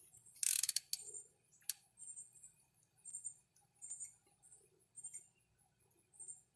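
Ratchet and socket tightening a spark plug on a Toyota Tacoma, a sharp metallic snap followed by a series of faint, evenly spaced pawl clicks, close and quiet, with no voice.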